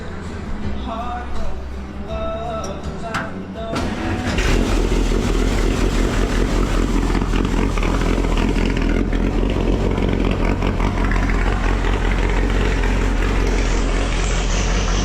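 A race car's repaired engine fires up after a few seconds of quiet, then settles into a loud, steady, throaty idle that runs continuously close by.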